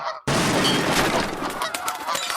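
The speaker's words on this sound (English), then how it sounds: "Look at the size of those geese." A loud, dense racket of many geese honking at once bursts in after a brief pause and continues close by, clamorous and chaotic.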